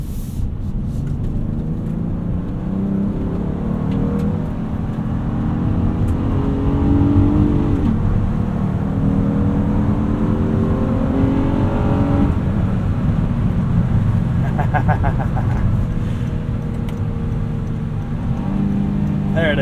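A 2026 Honda Odyssey Elite minivan with VTEC revs hard in sport mode under acceleration, the engine note climbing and dropping through gear changes into third as a steady cabin drone, with someone talking over it.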